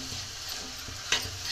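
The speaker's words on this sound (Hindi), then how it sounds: "और हमने ये मूंग की दाल डाल दी है" Moong dal going into a hot pan for oats and vegetable khichdi, a steady sizzle and frying hiss with a few soft stirring scrapes and taps, close and alone.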